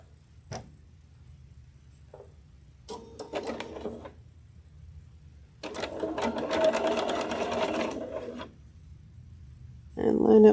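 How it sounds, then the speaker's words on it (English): A sewing machine stitching pieces of a quilt block, with a few brief stitch bursts, then a louder sustained run of fast rhythmic needle chatter close up, alongside light handling of fabric. "Let's just finish piecing these together."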